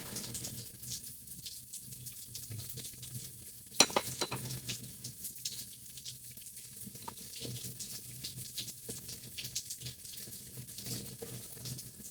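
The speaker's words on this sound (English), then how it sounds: "because you can hear the rain, right?" Rain falling outside on a rainy day, a soft continuous hiss and patter like water running, with a sharper cluster of splashes and clatter partway through, fairly quiet and with no one speaking.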